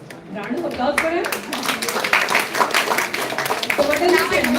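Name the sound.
audience applause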